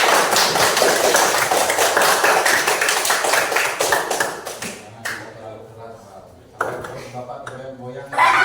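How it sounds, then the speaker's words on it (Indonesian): A classroom group claps hands together in a dense, loud burst for about five seconds that then thins out and fades, followed by a teacher speaking. "Tepuk tangan dulu."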